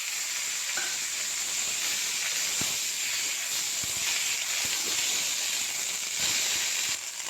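Onion greens frying in hot oil with black cumin and whole garlic, a loud continuous sizzle and hiss with occasional soft stirring clicks, steady throughout.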